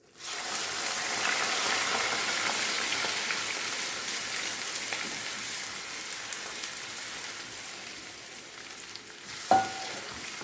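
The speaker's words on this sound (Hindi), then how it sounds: "अब यहाँ पर हम अच्छे तरीके से मैदे की लई डाल देते हैं, लेकिन उससे पहले हम चूल्हे को बंद कर देंगे और साथ साथ इसको हिलाते जाएंगे।" Maida and milk halwa sizzles and hisses steadily in a pan while being stirred, a dense continuous frying crackle at moderate level with a few faint scrapes and one brief clink near the end.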